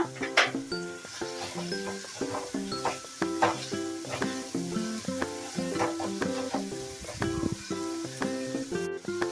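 Shredded cabbage fries in a pan for paneer fried rice, a constant sizzle broken up by repeated scraping and stirring strokes and faint clinks, loud and close throughout.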